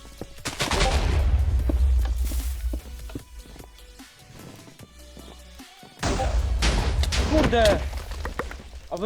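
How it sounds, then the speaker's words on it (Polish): TNT blowing up in Minecraft, heard as loud booming blasts in two bursts, with a quieter rumbling stretch between them. "Ktoś tam TNT wybuchł, który? Ja tam, wyjeb ja tam wyjebałem TNT."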